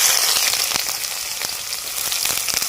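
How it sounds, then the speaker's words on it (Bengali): Chopped onions hit hot white oil and sizzle loudly and steadily, with brief crackles and spits scattered through the continuous frying hiss. "তেল গরম হয়ে গেছে, তেলের মধ্যে দিয়ে দিব পেঁয়াজ কুচানো"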